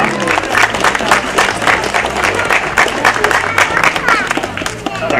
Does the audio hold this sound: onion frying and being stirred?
no